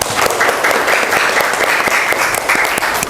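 A classroom of students claps for a classmate, steady dense applause, loud and close, continuing without pause and with no talking over it.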